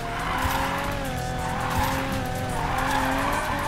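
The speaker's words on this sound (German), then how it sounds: "Dieser Drift geht in die Geschichte ein" Car drifting in the racing game Need for Speed Payback, its engine droning steadily under a continuous, wavering tire squeal that holds loud and close throughout.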